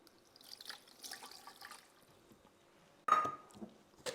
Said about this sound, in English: all you need to do is add in a cup of water